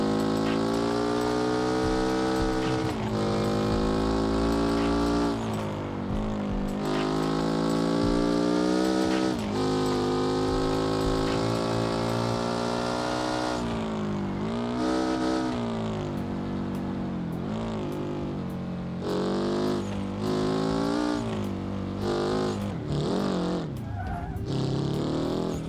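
A car drifts in BeamNG.drive, its engine droning loud and continuous with shifting revs, and tire squeal rises and falls through the slides.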